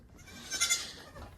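Goats bleat in a barn setting, a short nasal cry peaking midway through, fairly faint against low background rumble.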